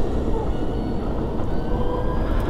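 BMW CE 04 electric scooter braking on a road, a continuous rushing wind and tyre noise with a faint electric whine, steady and close without any voices.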